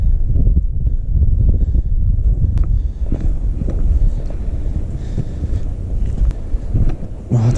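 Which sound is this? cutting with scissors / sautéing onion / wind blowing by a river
wind blowing by a river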